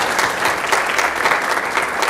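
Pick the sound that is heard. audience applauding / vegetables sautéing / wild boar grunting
audience applauding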